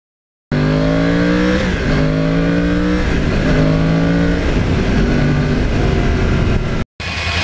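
A 2009 Yamaha R1 motorcycle is ridden on a road in open farming country, its loud engine repeatedly climbing in pitch through the gears with brief dips at each shift, close and continuous until it cuts off near the end.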